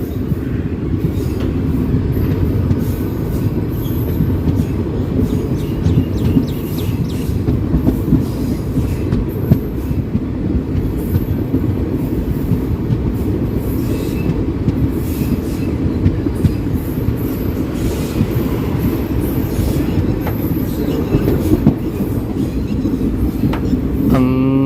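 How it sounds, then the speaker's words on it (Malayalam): A West Coast Superfast Express sleeper train runs steadily near Katpadi, India, giving a loud, continuous low rumble with wheel noise and faint rail clatter throughout, no voices. "ട്രെയിൻ കാട്ട്പാടി റെയിൽവേ സ്റ്റേഷനിലേക്ക് എത്തിക്കൊണ്ടിരിക്കുകയാണ്."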